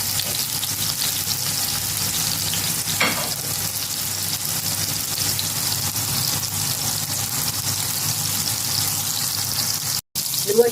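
Dawood Basha kofta fry in a pan, giving a steady, close sizzle of hot oil that runs unbroken, with one soft knock partway through and a brief gap near the end.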